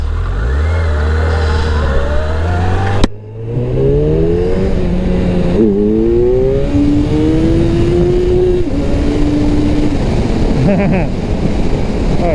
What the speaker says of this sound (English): Oh god, that's a car.